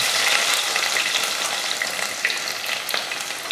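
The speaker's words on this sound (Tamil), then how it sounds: "எண்ணெய் காஞ்சதுமே கொஞ்சம் வெந்தயம் பொரிஞ்சதும் கருவேப்பிலை, ஒரு 100 கிராம் சின்ன வெங்காயத்தை பொடியாக கட் பண்ணியிருக்கேன்" Fenugreek seeds, curry leaves and finely chopped shallots frying in hot oil in a pan for fish curry, a loud, steady close-up sizzle with light crackles and stirring, no voices.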